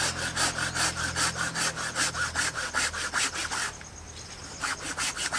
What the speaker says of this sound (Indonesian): Itu cabang gedenya dipotong.